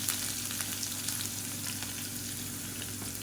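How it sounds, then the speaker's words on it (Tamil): Steady, bright sizzling of garlic frying in hot oil over medium heat, continuous and close with faint crackles throughout. "பூண்டு நல்லா பொன்னிறமாக வதக்கிக்கலாம்"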